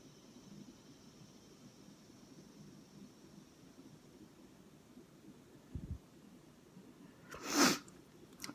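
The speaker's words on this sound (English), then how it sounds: "I really apologize, I keep sniffling" A quiet, near-silent stretch with a faint low bump, then one sharp, close sniffle rushing through the nose near the end.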